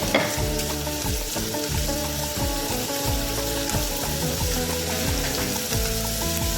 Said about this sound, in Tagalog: lagay ko sa gitna, isa ko na mag-gisa na sibuyas